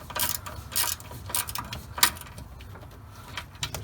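Ratchet wrench tightening a bolt on a Cummins engine during a rebuild, a series of close, sharp clicking bursts with metallic clatter and pauses.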